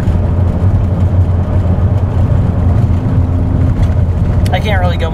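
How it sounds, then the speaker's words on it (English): Car engine held at raised RPM in third gear while driving through a blizzard, a loud, steady droning rumble that continues throughout with a faint whistle near the end. "3rd gear, raise up the RPMs"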